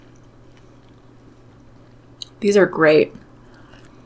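Crunchy honey chipotle chicken crispers made from breaded chicken breast pieces are bitten and chewed close up, a short burst of crunching after a quiet pause, followed by brief talk.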